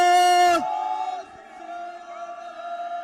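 A crowd shouts a Sikh jaikara battle cry at a political party gathering in Punjab, one loud sustained chanted call that drops into a fainter drawn-out response, echoing as if amplified.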